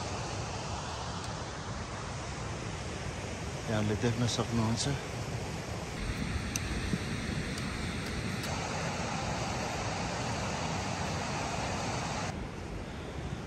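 The Budhi Gandaki river, fed by Manaslu snowmelt, rushes steadily beside a mountain trail near Yaru Phant on the Manaslu Circuit trek, a broad constant roar with some wind, briefly under a man's short spoken remark.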